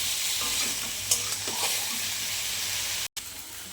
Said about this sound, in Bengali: আমি চিংড়ি মাছটাও ভেজে তুলে নিয়েছি